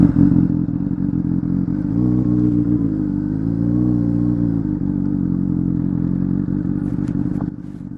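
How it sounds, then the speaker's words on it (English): Motorcycle fitted with a homemade quiet core baffle in its Toce exhaust, cruising at low speed with a steady, subdued rumble that dips and swells slightly, then drops off near the end. "when you're just cruising at low speed, the exhaust is really tame"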